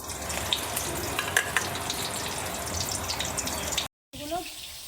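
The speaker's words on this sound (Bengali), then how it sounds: "আস্তে আস্তে ভাজা হতে থাকুক, লাল লাল করে ভেজে নেব।" Pointed gourds (potol) fry slowly in oil until reddish, making a continuous close sizzle with small pops, then a sudden brief cut to silence and a quieter tail with a faint voice.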